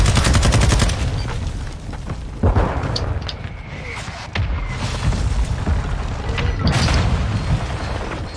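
Loud booms and gunfire ring out in a first-person shooter match, with heavy blasts at the start and again midway, sharp rattling shots in between, and a dense, noisy combat din throughout.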